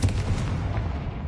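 A Confringo explosive spell blast in Hogwarts Legacy, a deep booming rumble that hits at once and rolls off over about a second, loud and close.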